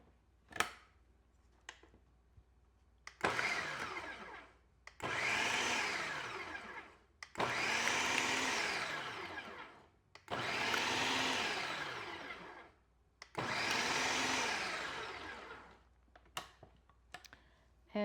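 A kitchen blender pulses keto lemon blueberry scone ingredients in five distinct bursts of whirring motor, each a couple of seconds long and separated by short pauses, with light clicks between.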